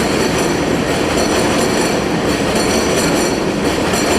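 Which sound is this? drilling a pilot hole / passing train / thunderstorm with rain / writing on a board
passing train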